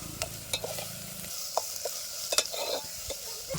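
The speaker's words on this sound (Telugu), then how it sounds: "మసాలా అయితే వేగుతుందండి" Masala with onions, chillies, ginger-garlic paste, coconut and curry leaves sizzles in a pan as the base for a chicken curry. Soft crackling continues beneath repeated scraping stir strokes, close and moderately quiet, with no voices.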